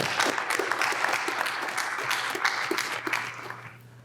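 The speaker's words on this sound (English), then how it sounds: "So give yourselves a big round of applause." Audience applause at a college graduation ceremony, a steady wash of clapping with a few distinct nearer claps and a low background hum, fading toward the end.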